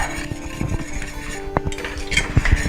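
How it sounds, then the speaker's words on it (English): A spoon clinks and scrapes against a pot while sauce is stirred in, producing irregular light metallic taps close by, with a couple of firmer knocks near the end. "So then stir that in till it's well blended."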